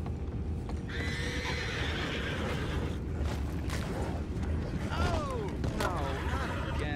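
Horses in Red Dead Redemption 2 whinny and neigh repeatedly close by, over a dense rumble of hooves and movement, with a few high, drawn-out calls rising above the steady background.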